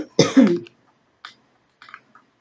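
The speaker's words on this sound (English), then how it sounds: "excuse me if I'm coughing" A single sharp cough rings out close to the microphone, followed by a few faint throat-clearing sounds in an otherwise quiet room.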